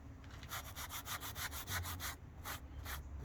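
Rubbing and abrading a leather jacket across the seams to weather it, a close, rapid rhythmic scratching of quick back-and-forth strokes, about a dozen in a row, with a few brief gaps.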